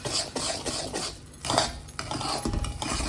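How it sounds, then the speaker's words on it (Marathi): A utensil stirs semolina in a pan while making ladoo, scraping and clinking against the metal in uneven strokes, close and fairly quiet, with no talking. "रवा घातल्यानंतर हे आपण पुन्हा व्यवस्थित ढवळणार"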